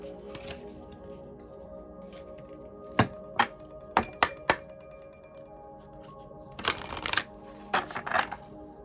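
Chakra oracle cards are shuffled close by in several quick riffling bursts, with short crisp flutters separated by brief pauses.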